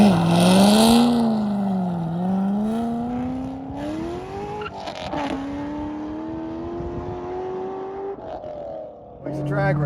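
A Corvette C6 ZR1 engine roars and revs at high pitch on a drag strip, climbing through the gears as it accelerates hard, loud and continuous.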